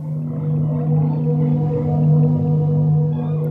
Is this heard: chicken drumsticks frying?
no